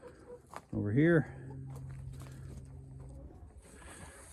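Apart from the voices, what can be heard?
chickens clucking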